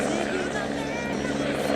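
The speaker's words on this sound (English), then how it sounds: "Too noisy, helicopter!" A helicopter flies overhead at a beach, its dense, steady rotor and engine roar filling the whole moment with a constant, loud wash of noise while a voice talks over it.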